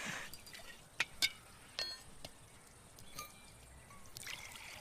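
Sharbat drink is poured into glasses in a home kitchen, a faint trickle and dribble of liquid with a few light glass clinks scattered through the quiet.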